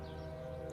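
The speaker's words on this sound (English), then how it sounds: "Can you guys hear the train?" A distant passing train sounds as a steady low rumble with sustained horn-like tones, faint and continuous through a brief moment with no talk.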